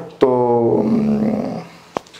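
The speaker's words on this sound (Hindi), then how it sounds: "कुत्ते बहुत भौंक रहे हैं मेरे यहाँ पे" Dogs barking near a home, a loud harmonic bark-like cry at the start that trails off, followed by a sharp short burst near the end, with someone speaking briefly.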